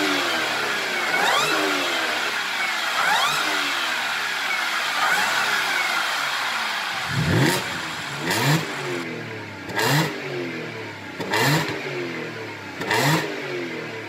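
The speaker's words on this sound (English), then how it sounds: "it has a good exhaust sound" A supercharged Audi S4 engine revs repeatedly, rising and falling in sweeping pulls, followed by several sharp, quick blips of the throttle, loud and close with no talking.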